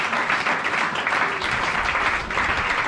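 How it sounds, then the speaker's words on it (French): A church congregation at a Pentecost service applauds continuously, a dense, sustained wash of clapping that stays loud and even throughout with no break. "Acclame le Seigneur"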